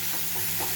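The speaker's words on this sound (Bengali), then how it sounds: "ভাজতে হবে, যতক্ষণ না কচুটা বেশ ভালো রসটা শুকিয়ে যায়" Taro frying with spices in a pan, a steady close hiss and sizzle that runs without a break, with no voices.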